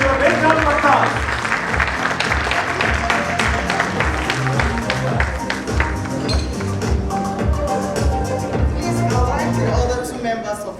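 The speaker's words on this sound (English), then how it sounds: "Please do a big round of applause." An audience at a reception honoring global women of excellence applauds to welcome a guest, steady clapping throughout with music and voices mixed underneath.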